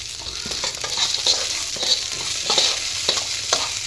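Onion and garlic fry in a pan toward browning, a loud continuous sizzle broken by repeated scraping stirs at an irregular pace, with no speech.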